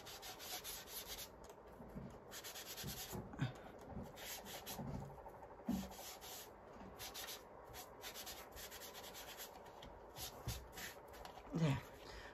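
A piece of kitchen sponge dabs and rubs paint onto an art journal page close up, making soft repeated scratchy pats in an uneven rhythm with brief pauses, and no one talks.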